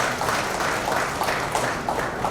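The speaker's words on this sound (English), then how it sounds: "The guy who really needs a round of applause is Jatin." An audience at a community news event gives a steady round of applause, moderately loud and continuous, with no speech on top.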